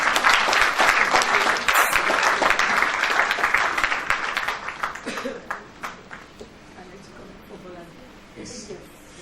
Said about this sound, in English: So please clap for her again.